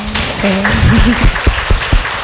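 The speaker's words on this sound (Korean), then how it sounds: "박수 한번 부탁드릴게요." Audience applause at a Korean literary talk event featuring two novelists, a short burst of clapping that blends with a brief spoken voice over it.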